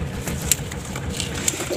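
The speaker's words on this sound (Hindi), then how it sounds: "बहुत बढ़िया कबूतर है फ्रेंड्स, मद्रासी और पंजाबी मिल के क्रॉस कबूतर है फ्रेंड्स" A Madrasi-Punjabi cross pigeon gives soft, faint coos over a low background hum, with two brief sharper calls standing out.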